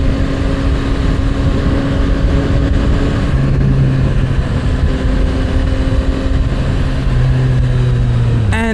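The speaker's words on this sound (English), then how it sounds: "the original exhaust itself, the sound note is really nice lah" A Yamaha MT-09 motorcycle on its original exhaust cruises through a night ride, a steady, close engine drone with shifting tones and a brief rev near the end, under wind rush.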